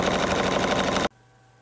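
An embroidery machine runs at 1,000 stitches per minute, a loud, rapid rattling hammer of needle strokes for about a second before cutting off abruptly into quiet hum.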